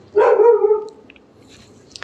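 A single loud, close dog bark with a slightly drawn-out tail, followed by quiet room tone and a couple of faint clicks.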